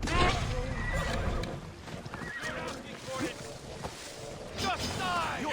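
Mounted guards' horses in Assassin's Creed Odyssey neigh and whinny with hoof clatter amid combat noise, loud and close, under a voice speaking.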